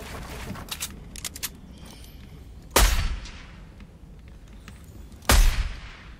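Two sharp, loud assault rifle blasts with ringing tails stand out over a busy Fortnite game soundscape, preceded by a flurry of lighter clicks and pops.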